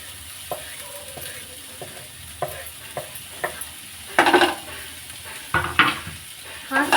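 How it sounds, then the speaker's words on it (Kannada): A spoon stirs and mixes sambar ingredients in a pan. Scrapes and clinks come at irregular intervals, close and fairly loud, with some sizzling underneath and no talking. "ಹಾಕಿ ಚೆನ್ನಾಗಿ ಮಿಕ್ಸ್ ಮಾಡಿ"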